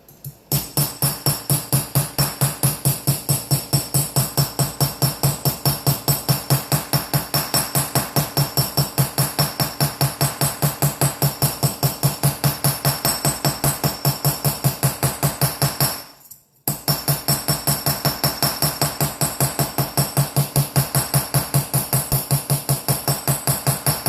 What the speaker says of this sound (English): I'm going to hold my hammer nice and low, and I'm going to use it like a fulcrum